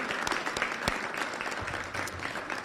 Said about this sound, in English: round of applause for Deputy Governor Bria Scudder and J.C. Kibbe and her entire team